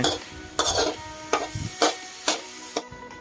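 A metal spatula scrapes and tosses sweet corn around a wok in five or six rhythmic strokes, with a faint sizzle underneath.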